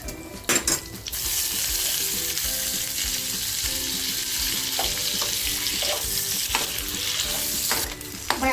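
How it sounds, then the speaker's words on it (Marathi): Boiled eggs dropped into hot oil in a pan over a low flame for an egg tikka pulao, with a loud steady sizzle after a few clanks of the utensil on the pan. "तेल टाकते त्याच्यानंतर जी आपण अंडी घेतले ती अंडी टाकूया"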